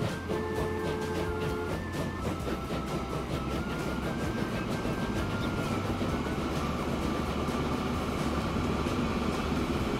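A train rolls along a line in the video game Transport Fever, a steady loud rumble with rhythmic clickety-clack of wheels and a brief tonal whine early on, continuous throughout.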